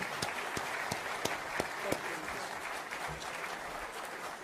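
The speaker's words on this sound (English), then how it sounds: "One more round of applause for our speakers" Audience applause for speakers after a climate science talk, fairly quiet and distant, with a few distinct sharp claps standing out early before it settles into a soft, even patter.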